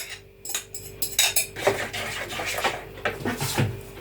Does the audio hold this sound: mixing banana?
yes